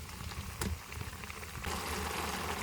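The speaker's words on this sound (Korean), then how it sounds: "물이 끓으면" Water boiling in a pot for ramen, a soft, steady bubbling patter with fine crackles and a slight swell partway through, with no talk.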